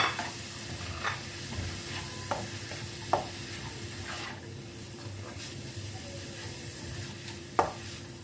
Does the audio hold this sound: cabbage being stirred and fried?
yes